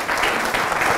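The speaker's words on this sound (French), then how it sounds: "Je vous demande d'applaudir très très fort" Studio audience at a French-language talk show applauding loudly and steadily, a dense wash of close clapping that continues throughout with no voices on top.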